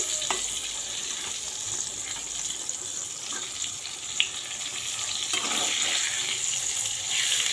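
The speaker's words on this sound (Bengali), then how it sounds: "এই যে বেগুন কেটে ভাজতে বসিয়ে দিয়েছি দেখো বেগুন ভাজি করছি তেলে" Eggplant slices fry gently in oil over low heat, a soft continuous sizzle with faint scattered pops and a small clink midway, close but quiet, no talk.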